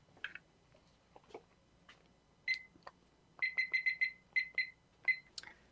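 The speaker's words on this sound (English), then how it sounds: "So let me grab my timer." A kitchen timer is set while cooking, giving rapid clusters of high electronic beeps after some faint handling clicks, close but fairly quiet in a calm room.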